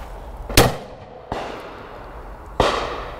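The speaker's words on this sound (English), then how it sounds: "see how quickly it'll get up to my shoulder and how quickly it can be positioned and fire and still hit the clay" Three sharp, loud shotgun reports from a Beretta Ultraleggero fired at going-away clay targets outdoors, each blast ringing with a short decaying tail, spaced unevenly about a second apart with no talking.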